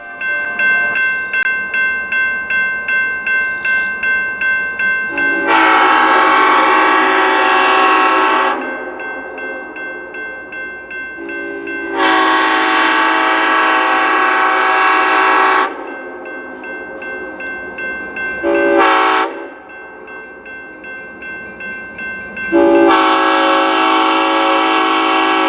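The CSX Santa Train sounds its horn in long repeated blasts as it passes the Pond Creek Road crossing in Griffith, Kentucky, with a crossing bell ringing steadily throughout.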